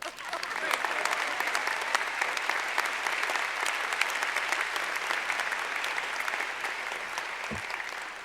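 Sustained, dense applause from a large audience honoring faculty at the Johns Hopkins SAIS 2022 commencement ceremony, steady and even for the full stretch, with a voice faintly present beneath the clapping.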